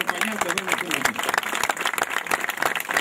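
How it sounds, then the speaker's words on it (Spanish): Crowd at a rural criollo festival gathering in Roque Pérez, Argentina, applauding with dense, close, lively clapping while voices murmur and talk underneath throughout. "un fuerte aplauso"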